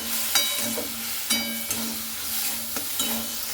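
A spoon stirs drumstick greens with jackfruit seeds frying in a pan, giving a steady close sizzle broken by several sharp scraping clicks against the metal at irregular intervals.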